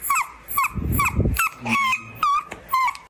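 A dog makes a series of short whining, yelping calls with a low growly stretch in the middle, close and fairly loud.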